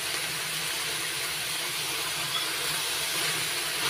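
Ginger garlic paste fries with onions in a pan, a continuous even hiss of hot oil with no stirring accents and no voices.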